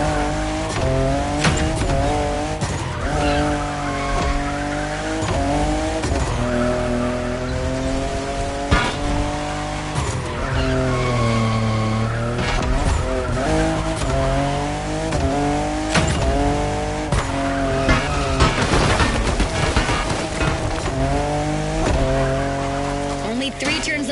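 Fifth-generation Toyota Supra in The Crew Motorfest, engine note rising and falling through gears with intermittent tire squeals as it skids through turns, mixed with background music and a voice talking.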